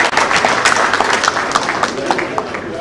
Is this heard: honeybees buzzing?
no